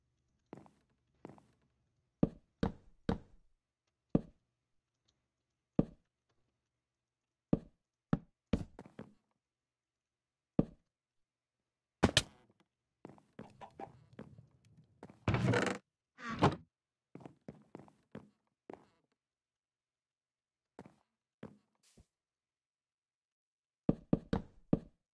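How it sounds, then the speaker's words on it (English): Wood chopping in Minecraft, a long run of sharp dry thunks and knocks, some in quick clusters and others spaced out with silent gaps, fairly close with no talk. "Free chopping time."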